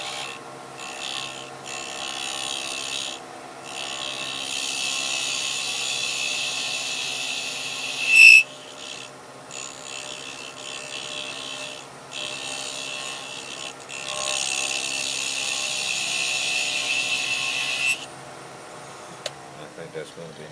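A lathe tool cuts a bead on a turned wooden box lid, producing a steady scraping hiss in several sustained passes with short breaks and one sharp click midway.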